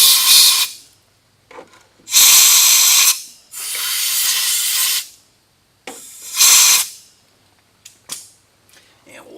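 Compressed air blows metal chips out of a freshly drilled hole in an aircraft spar, coming as several loud hissing bursts of one to two seconds each, separated by quiet gaps and small handling clicks.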